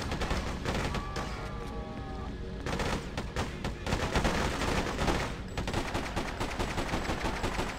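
Rapid bursts of gunfire and automatic weapon fire from the video game Freedom Fighters rattle loudly and almost continuously, with dense shots layered over battle noise and a brief pause in the middle.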